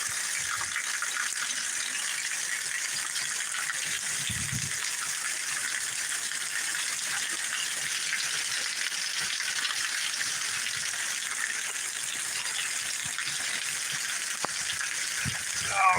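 Heavy rain pours steadily with wind during a tornado warning storm in Birmingham, Alabama, a dense continuous hiss lasting throughout, with a brief low gust thump near the middle and another at the end.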